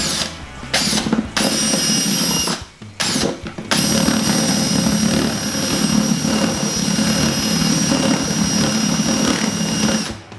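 A power drill with a step drill bit bores and widens a hole, a loud continuous whining grind that starts, stops briefly twice in the first few seconds, then runs steadily close up.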